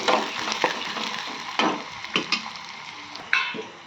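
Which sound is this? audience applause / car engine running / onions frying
onions frying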